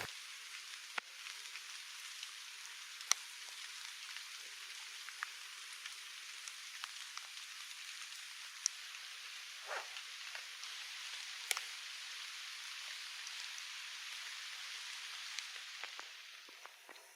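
Light rain patters on a camp tarp outdoors, a soft continuous hiss with scattered sharper drop ticks, faint and steady throughout, with no one talking.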